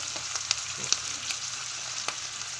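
Chicken sizzling in a pan with oyster sauce, a steady close frying hiss punctuated by a few sharp spatters and pops as the pieces are tossed, with no voices.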